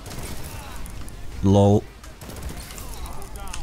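Lord of Wolves weapon firing in Destiny 2, a single loud rapid burst of shots lasting about a third of a second, over steady game noise and someone talking.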